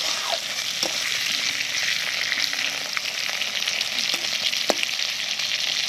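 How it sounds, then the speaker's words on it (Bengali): Pointed gourd (potol) fries in oil with salt and turmeric, making a loud, continuous close-up sizzle broken by occasional clicks and scrapes of a spatula, with no talking. "হালকা দিয়ে দেবো নুন, হলুদ, একটু লাল লাল করে ভেজে নেব পটলগুলো।"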